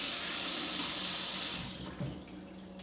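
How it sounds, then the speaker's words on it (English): Tap water runs steadily into a sink as hands are washed in a home kitchen, a loud, close, continuous hiss that thins and quiets after a couple of seconds, with no voices. "Excuse me while I wash my hands because I don't want any of that on me for the rest of it."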